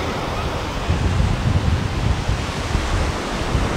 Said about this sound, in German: Wie gesagt, das Wasser ist heute ein bisschen aufgewühlt.